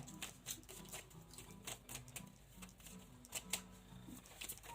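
Tarot cards shuffled by hand in quick, continuous riffling bursts of soft flicks and slaps, close and fairly quiet, with a low hum in the background and no speech.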